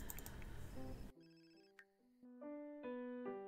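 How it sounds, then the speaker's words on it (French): A telephone in The Sims 4 rings with a bright melodic tone. The jingle starts abruptly after a burst of busy background noise and repeats as clean, stepped tones, moderately loud and alone. "Mais tout ce téléphone qui sonne, mais tout le temps."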